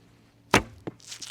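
Arrow released from a Korean horn warbow: one sharp, close snap of the string, then a brief softer knock and a faint hiss as it flies.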